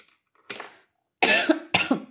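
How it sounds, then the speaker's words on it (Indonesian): A person coughs three times in a quiet room, one softer cough followed after a pause by two louder, harsh coughs in quick succession. "Duh, batuk"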